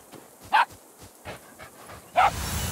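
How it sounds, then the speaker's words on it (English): A hyena in the game Dysmantle gives two short yipping barks, spaced well apart and fairly close, with quieter panting-like sounds between them. "The hyena barks."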